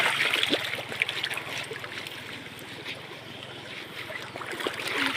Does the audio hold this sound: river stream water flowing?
yes